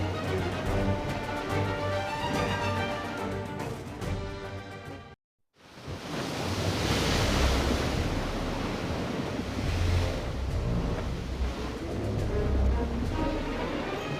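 Ocean waves from a sailing scene in the video game FFBE WOTV. Music plays first, the sound cuts out briefly, then a steady rush of surf and wind fills the rest.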